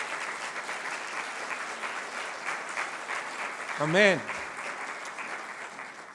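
A church congregation applauds steadily as an offering of praise, a dense continuous clapping that fills the room, with a single spoken word rising briefly over it near the end.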